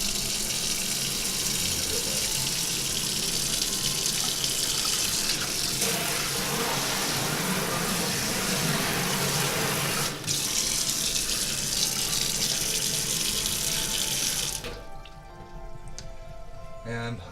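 Water runs steadily from the faucet of a newly installed workshop wash tub sink, a loud, continuous hissing splash that carries alone, then cuts off sharply near the end and leaves a quiet room.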